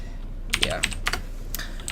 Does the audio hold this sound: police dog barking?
no